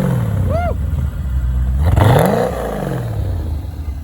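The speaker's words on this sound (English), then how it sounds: "Give me some revs." A Corvette engine revs once in a brief rising sweep that falls away again, heard close and fairly loud after a short vocal exclamation.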